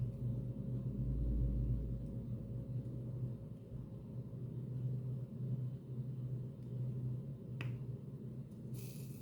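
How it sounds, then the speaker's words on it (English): Steady low road traffic rumble in Hungary, a continuous drone of passing cars heard from a distance, with a faint brief click near the end. "Traffic picked up"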